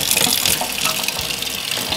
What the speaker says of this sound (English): Now we're going to give it a good rinse.